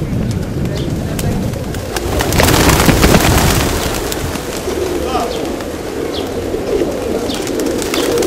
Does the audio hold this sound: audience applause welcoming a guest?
no